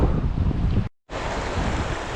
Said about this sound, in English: So I'm at a little creek here.